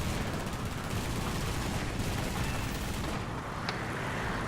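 Continuous aircraft machine-gun and cannon fire in War Thunder, dense rattling bursts with engine roar underneath, steady and loud for several seconds with no voices.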